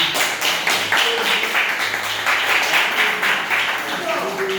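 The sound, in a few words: audience applause in a classroom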